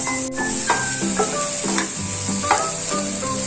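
Cooked, shredded chicken goes into a pan of sautéing spring onion and green chilli, a loud, close, continuous sizzle with repeated stirring scrapes and soft tonal sounds beneath.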